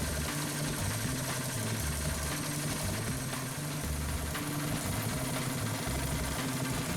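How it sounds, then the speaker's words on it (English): A Predator 212 go-kart engine with a freshly cleaned carburetor idles steadily nearby with a rapid, uneven chugging putter and a faint metallic rattle, with no voices. "Alright, so it seems to be idling pretty good."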